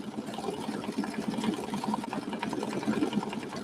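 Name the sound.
sewing machine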